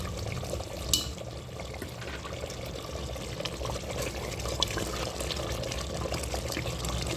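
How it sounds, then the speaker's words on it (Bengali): Fenugreek and chilli fried in ghee are poured into a pot of white mutton korma, giving a steady, moderately quiet pour and sizzle that runs unbroken for several seconds. "এবার ওই ভাজাটা ঢেলে দেবো,"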